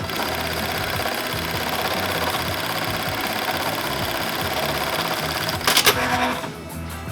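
An automatic sewing machine with a rectangular box X stitch pattern runs steadily as it sews a belt strap to a buckle for a light duty tactical belt, a continuous mechanical whir that stops with a brief clatter near the end.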